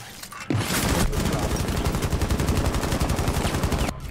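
Sustained rapid automatic gunfire in an online shooter video game, loud and close, a dense continuous burst of shots lasting several seconds with no talk over it.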